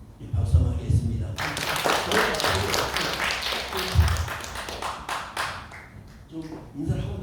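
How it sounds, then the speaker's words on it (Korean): A church congregation claps together at a Christmas Day service, a dense burst of hands that begins after a short pause, swells loud, and holds for several seconds before thinning out, with voices mixed underneath. "박수 한번 하겠습니다."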